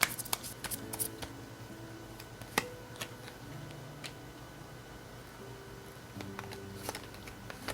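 Tarot cards being shuffled and handled, producing soft scattered riffling ticks and a few sharper card snaps, quiet and close with a hushed background and no talk.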